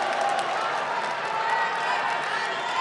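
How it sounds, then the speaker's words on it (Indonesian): Audience applause for candidate pair number one at an East Java gubernatorial debate, a continuous, even roar of many hands clapping that fills the hall without pause. "kita berikan tepuk tangan untuk pasangan calon nomor urut satu"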